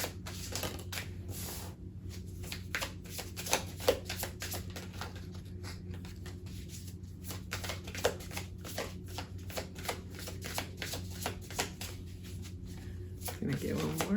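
Tarot cards shuffled in repeated quick riffling bursts, close and soft, while a voice talks quietly over the steady rustle.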